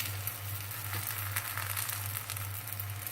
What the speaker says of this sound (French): Donc je vais continuer comme ça la cuisson de toutes mes crêpes